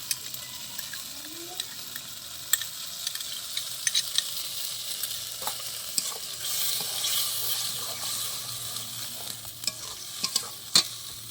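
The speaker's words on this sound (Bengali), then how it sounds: "এবার দই দিয়ে দেবো এতে আমি।" Yogurt is stirred into mutton kosa frying in a pan, a soft continuous sizzle with scattered scraping clicks of the spoon, quiet and close, with no talking.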